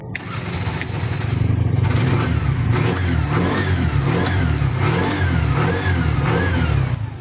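A Bajaj RE auto-rickshaw engine, after a DIY repair for a no-start fault, catches and runs loudly with repeated rising revs, steady and close throughout with no talk.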